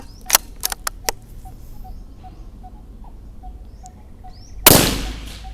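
.22 LR rifle fired on a 100-metre range, a few sharp cracks in quick succession early on, then a softer spell with faint repeated chirps before a loud, broad blast near the end.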